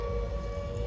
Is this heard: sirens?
yes